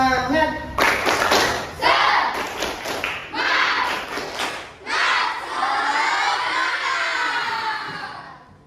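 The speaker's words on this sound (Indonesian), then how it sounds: "kita tepuk semangat dulu ya anak-anak." Schoolchildren in a classroom perform a rhythmic clapping chant: sharp group claps in a rapid pattern with thumps, then a loud burst of cheering and shouting voices that trails off.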